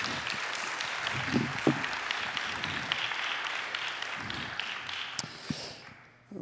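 Audience applause at an innovation trophy award ceremony, a moderate field of many clapping hands with a few sharper nearby claps and knocks standing out, fading and cutting off near the end.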